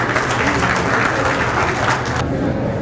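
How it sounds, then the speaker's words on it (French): Hearty applause from the audience at a book presentation and signing ceremony, thick continuous clapping heard up close and loud, cutting off abruptly near the end. "Sous vos applaudissements nourris."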